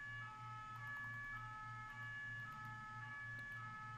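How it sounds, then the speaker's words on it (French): A distant ambulance siren wails in a steady, rapid two-tone pattern, faint and continuous with no talking. "J'espère que vous entendez pas trop la sirène."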